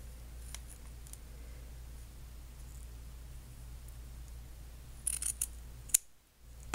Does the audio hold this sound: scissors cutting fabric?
yes